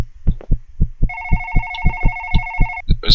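A phone rings in a horror video game, a steady electronic trill playing over a loud, rhythmic heartbeat-like thumping, followed by a brief burst of noise at the end.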